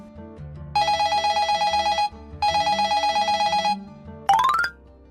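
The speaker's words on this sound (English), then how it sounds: "Hey, answer the phone." An electronic telephone rings in two long trilling bursts followed by a short rising chirp, loud and close over quiet background music.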